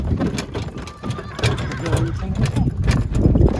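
A draft horse mare whinnies while hooves clip-clop in an uneven rhythm nearby, with people talking over the animal sounds.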